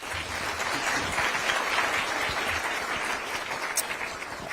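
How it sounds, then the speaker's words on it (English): Lecture audience gives a sustained round of applause, a continuous even crackle of many hands clapping at moderate distance with no voices over it. "A round of applause for Dr."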